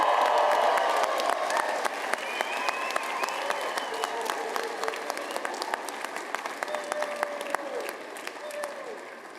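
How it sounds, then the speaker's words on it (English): Applause and cheering from the audience at a 2023 KCAD commencement ceremony in the Forest Hills Fine Arts Center, a broad crowd wash with scattered whistles and shouts, loud at first and slowly easing off. "we encourage you to applaud and cheer enthusiastically"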